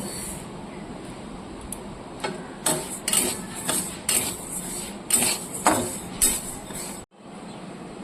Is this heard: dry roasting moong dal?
yes